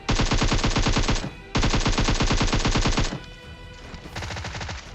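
Automatic weapon fire in the PUBG Mobile video game while knocking down an enemy: two long, loud, rapid bursts of gunshots separated by a short gap, then a rougher trailing burst of shots.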